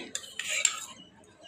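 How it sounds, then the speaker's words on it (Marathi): A spoon clinks and scrapes against a bowl while yogurt and oil are mixed for a rava cake batter, a few quick, faint metallic taps and stirs close by. "ह्याला चांगलं मिक्स करून घेऊया, म्हणजे की दही ना तेलमध्ये चांगलं मिक्स व्हायला पाहिजे."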